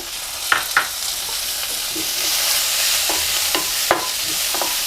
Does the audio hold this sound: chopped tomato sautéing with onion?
yes